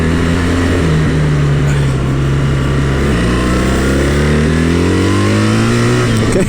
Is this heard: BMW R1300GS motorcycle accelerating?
yes